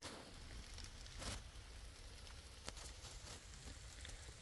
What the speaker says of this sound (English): Just giving it the rain test now that it's finally raining.